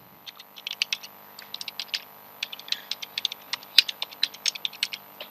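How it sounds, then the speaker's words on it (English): Keys on a computer keyboard clack in quick irregular bursts as an IP address is typed, about two dozen close, crisp presses with short pauses between groups, over a faint electrical hum. "Now type the IP address of your machine."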